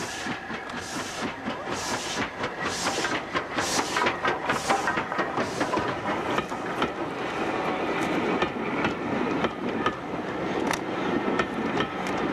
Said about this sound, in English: The N2 approaches Quorn with an evening train from Rothley.